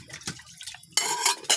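Plates and pots clink and clatter as dishes are washed by hand, with brief splashes of water; a few sharp ceramic knocks stand out near the end, and no one speaks.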